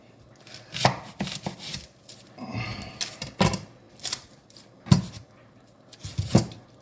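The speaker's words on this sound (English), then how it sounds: "So what I'm going to do is cut it in half." A knife chops through a white onion on a cutting board in sharp, separate knocks spaced about a second apart, with softer scraping and handling sounds between the cuts and no one talking.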